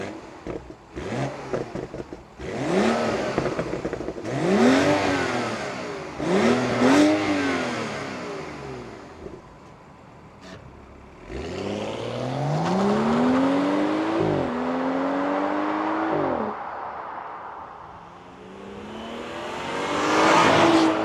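A 2014 BMW 640i Gran Coupé with its standard exhaust revs repeatedly in a parking lot near a border crossing, several loud rising and falling bursts close by, followed by longer sustained revs and a final climb.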